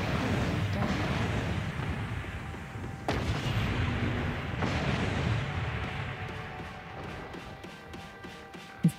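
Mech weapons fire in the video game MechWarrior Online: loud, dense blasts and crashing impacts roll on continuously, with sharp new bursts striking around the third and fifth seconds before the barrage thins out.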